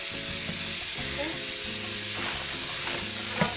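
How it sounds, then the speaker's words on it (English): Purple vegetables stir-frying in hot oil for spaghetti stir fry, a steady close sizzle with faint stirring scrapes, a voice speaking over it. "Add all of that in so they can also start frying"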